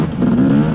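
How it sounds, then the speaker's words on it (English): Dirt bike engine held at a steady, loud drone while the rider performs a slow wheelie on a trail. "so let's try another slow wheelie"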